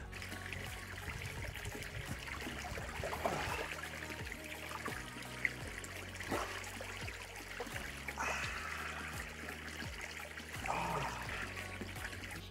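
Water circulating through a natural swimming pool with aquatic plants on a Portuguese permaculture homestead, a soft steady trickle and gentle splashing, quiet and close with no voices.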